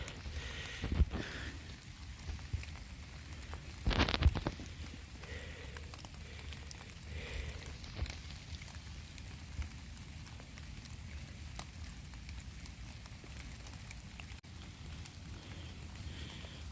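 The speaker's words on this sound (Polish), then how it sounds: "Pada deszcz." Light rain patters steadily on a surface outdoors in an old orchard during metal detecting, faint and continuous, with a couple of louder knocks early on.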